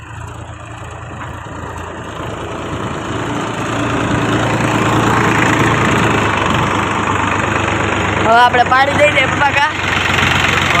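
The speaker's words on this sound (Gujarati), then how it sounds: "મારા પપ્પા ટ્રેક્ટર લઈને આવે એટલે મારો અવાજ તો તમને નહીં સંભળાય." A tractor engine runs close by in a farm field, its steady mid-pitched chug rising in loudness partway through, while people talk over it.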